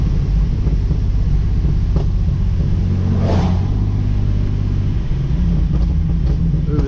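Wet-road driving in a Hyundai Genesis Coupe 3.8 with a Solo Performance exhaust: steady engine and tire rumble, with a sharp burst of exhaust crackle midway and a few fainter pops near the end.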